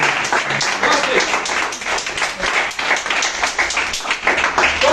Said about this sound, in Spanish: Dale fuerte palmas.